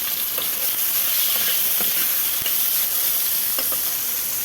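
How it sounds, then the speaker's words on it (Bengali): Long-sliced eggplant fries in hot oil, giving a loud, dense, steady sizzle with small crackles and pops close up, without any talk. "এইবার ওই সেম তেলে দিয়ে দিচ্ছি আমি লম্বা লম্বা করে রেখেছিলাম, কেটে রেখেছিলাম বেগুনগুলো আমি দিয়ে দিলাম।"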